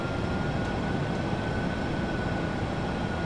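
The engines of a PMDG Boeing 737-800 in Microsoft Flight Simulator 2024 give off a steady, loud, broad roar as the throttles advance for takeoff, with no voices.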